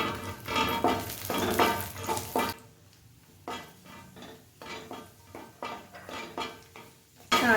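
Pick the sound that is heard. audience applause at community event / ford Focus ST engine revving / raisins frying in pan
raisins frying in pan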